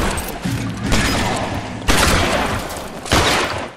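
Gunfire in the video game LA Noire, with loud, booming shots at roughly one-second intervals, each blast followed by a sustained rumbling tail and no talk.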